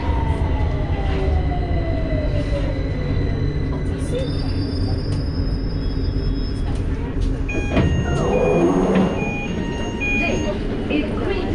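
A London Underground Victoria Line train rumbling loudly through the tunnel, with a falling whine, squealing wheel tones and brief beeps, while a recorded announcement voice speaks over it.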